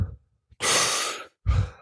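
A long forceful exhale during Tumo breathing in the Wim Hof method, a close breathy rush of air lasting under a second, with shorter breath sounds just before and after.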